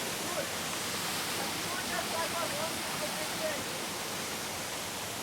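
A waterfall beside a mini golf hole pours in a steady, soft rushing hiss, even and continuous at a moderate distance.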